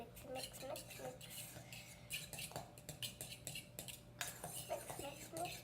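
Eggs being whisked in a bowl with a utensil, with rapid clinks and scraping strokes of metal against the dish, close by, with a voice chattering over the stirring.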